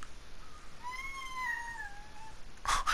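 Pet cat meowing twice in a quiet room, a clear rising and falling meow followed by a short sharp burst of noise.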